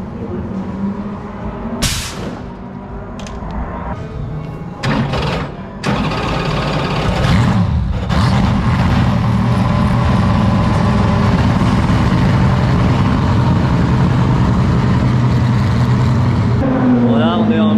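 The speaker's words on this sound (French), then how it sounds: "La P3, la Ferrari qui passe." A Ferrari race car passes on a circuit with a quick rising and falling engine sweep, set over the steady low rumble of a nearby engine. Voices talk over parts of it.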